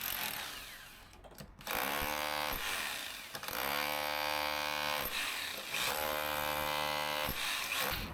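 A small Works power drill bores into solid concrete, its whining motor rising and falling as the bit bites in, with a brief dip where drilling pauses before loud grinding resumes, close-miked and without speech.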